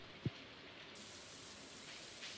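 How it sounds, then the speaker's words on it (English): Steady in-game rain from Stardew Valley falls as an even, soft hiss throughout, quiet and continuous with one brief low thump near the start and no talking. "It's going to rain all day today."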